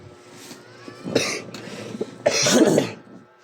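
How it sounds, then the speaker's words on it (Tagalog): A person coughs a few times, with a harsh burst near the middle and a longer, heavier coughing fit toward the end, close and fairly loud. "Parang napapadalas yung ubo mo ba?"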